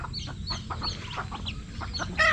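Hens cluck and chatter softly over a low background hum, with a few short peeping calls of newly hatched chicks close by.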